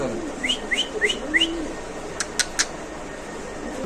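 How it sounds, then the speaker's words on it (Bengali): Black Lahori pigeons coo and chirp nearby in a short series of soft calls, followed by a few sharper clicks or taps. "এখানে আছে একজোড়া কালো ডেনিশ কবুতর"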